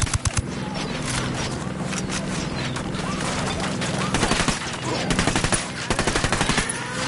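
Repeated bursts of automatic gunfire and rapid single shots in Ghost Recon Wildlands, loud and close, with dense firefights that keep overlapping and short pauses between volleys.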